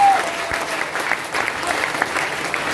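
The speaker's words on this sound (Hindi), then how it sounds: "तो तालियां क्यों दे रहे हैं?" Audience applause filling a hall in Patna during a stage event, a steady dense clapping that runs throughout with no voices over it.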